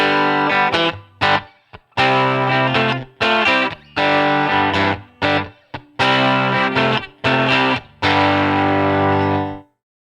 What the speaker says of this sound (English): So I went ahead and added a room reverb.